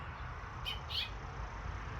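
A nesting finch near beehives gives two quick, faint, high chirps over a low steady outdoor hum.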